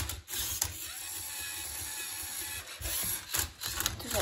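A Lego robot working a Rubik's Cube whirs and clicks mechanically, with motor hums broken by short clunks and pauses as the cube turns. The sound is close and fairly quiet, with no talk.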